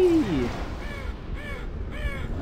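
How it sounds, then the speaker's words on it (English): A crow cawing in the video game Half-Life 2, a series of harsh, nasal caws in quick succession at moderate distance over a low background hum, with a voice overlapping briefly at the start. "Is a crow in here?"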